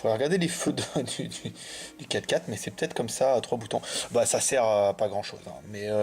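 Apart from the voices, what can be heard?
No distinct noise like a dog, phone or traffic.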